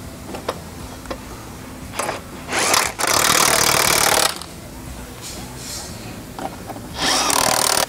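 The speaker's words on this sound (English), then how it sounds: "Now ready to start tightening your mounting hardware." A power tool tightens wedge anchor mounting hardware while Polaris Xpedition nerf rails are installed at the skid plate, running in two loud sustained bursts, with faint clicks and handling noise between them.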